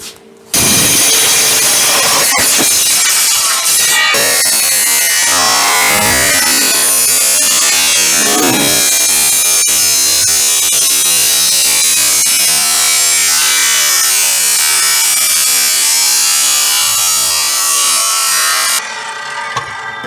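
A power tool cuts through an exhaust pipe in a loud, continuous grinding whine that lasts about eighteen seconds before stopping abruptly, close to the listener.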